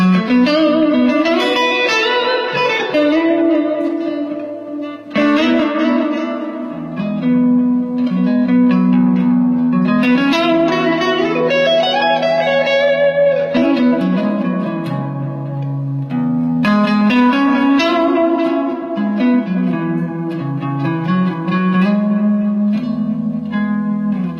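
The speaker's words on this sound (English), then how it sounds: "It's an old DE7 Echo, which kind of cuts a lot of the high end, and the repeats have a little bit more grit on them." Clean electric guitar played through an old Ibanez DE7 echo pedal with darkened, slightly gritty repeats, sustained chords and melodic lines ringing with echo and reverb throughout, loud and alone.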